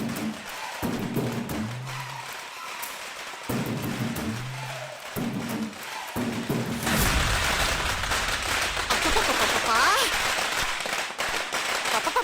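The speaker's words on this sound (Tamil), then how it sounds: "ஏன் வீட்டு முன்னாடி வந்து பட்டாசு வெடிக்கிறது?" Firecrackers bursting in front of a house in a Tamil TV serial scene: a loud, dense barrage of crackling pops fills the second half after voices are heard at the start.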